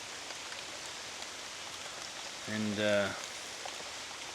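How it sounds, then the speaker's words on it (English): Steady rain falls through a forest, a soft continuous patter on moss and trees; a short spoken word breaks in midway, then the wash of rain continues alone. "rain's coming down"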